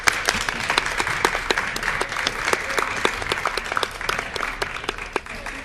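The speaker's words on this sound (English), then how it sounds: "so give them a warm applause." An audience at an Erasmus+ debate on sustainable energy applauds the winning teams, with steady, moderately loud clapping from a room full of people that is lively at first and thins slightly toward the end.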